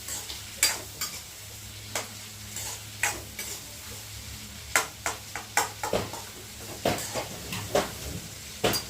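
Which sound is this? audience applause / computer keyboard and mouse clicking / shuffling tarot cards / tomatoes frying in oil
tomatoes frying in oil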